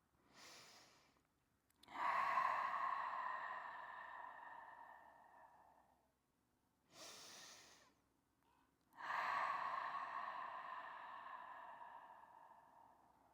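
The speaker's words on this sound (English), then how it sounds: "Taking a few deep inhales in and exhales out." Slow, deep breaths in and out during a Pilates stretch, soft and close, with long airy exhales alternating with shorter inhales and quiet pauses between them.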